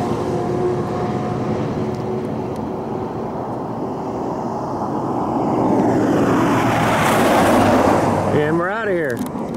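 A big truck passes on a road near White Sands, a steady broad roar that swells louder toward the end and then fades, heard from close by.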